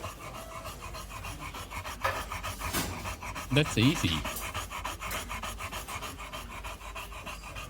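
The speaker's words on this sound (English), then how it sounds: "It's panting." A brachycephalic dog pants in quick, rhythmic breaths close by, with a brief rasping scrape and a person speaking briefly over it.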